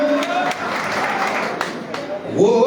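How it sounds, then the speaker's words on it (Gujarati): Audience applause at a political speech, dense clapping that runs loud and continuous for most of the clip before a voice comes in over it near the end. "તાળી પાડવાથી તમને ક્યાંય ફાયદો નથી"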